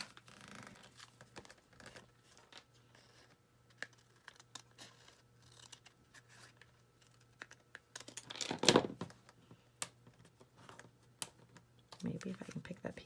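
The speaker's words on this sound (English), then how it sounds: "Now I'll just take my scissors and trim off the excess." Quiet snips and crisp paper rustles come in scattered bursts, with a louder crinkling flurry midway and more handling near the end over a faint hum.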